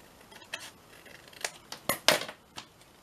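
Scissors snip paper for a paper bag folio in a series of close, crisp cuts spaced irregularly, some louder than others, over a quiet background.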